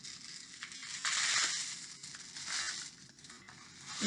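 Soft rattling and hissing swells and fades as a soft filling cascades through a homemade rainstick tube, a light, grainy patter without voices.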